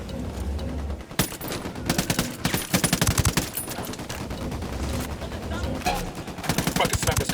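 Gunfire in Tom Clancy's Ghost Recon Wildlands, an open-world shooter: bursts of rapid automatic rifle fire and sharp single shots, loud and close, coming in clusters with short gaps and some game voices under them.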